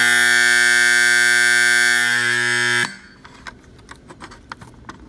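A church fire alarm test: a loud, steady electronic alarm tone with strong harmonics blares for nearly three seconds, then cuts off, leaving faint clicks and rustling.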